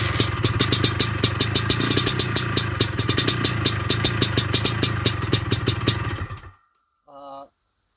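A small engine idles and clatters with a steady, busy rumble close by for about six seconds, then cuts out abruptly into silence, followed by a brief low voice.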